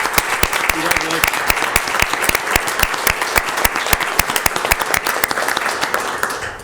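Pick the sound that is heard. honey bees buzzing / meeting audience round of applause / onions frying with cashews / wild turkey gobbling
meeting audience round of applause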